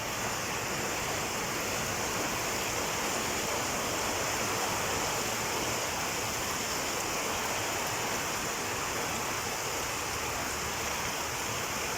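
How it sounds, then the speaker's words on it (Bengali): Heavy rain pouring down at night, a dense, steady roar of water that holds constant from start to finish with no voices. "বৃষ্টি আর থামি না কি বৃষ্টি দেখো কি জুড়ে বৃষ্টি"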